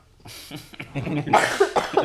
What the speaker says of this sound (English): I was trying to like hold this coughing